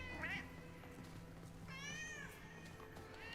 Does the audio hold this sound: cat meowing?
yes